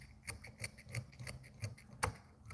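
Scissors snip repeatedly while trimming a fly-tying bass bug, close up: a steady run of about eight crisp, fairly quiet cuts in an even rhythm, with no talking.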